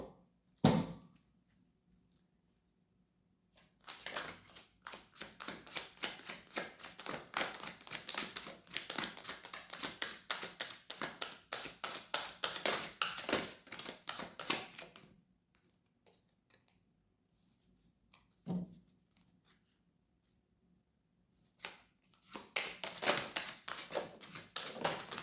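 Tarot cards are shuffled and handled up close in long runs of rapid, crisp riffling clicks with quiet gaps between the bursts, and no one talking.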